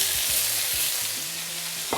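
Onion, garlic and tomatoes crackle and sizzle steadily in hot oil, with low scraping strokes of a utensil stirring the pan and a sharper knock at the end.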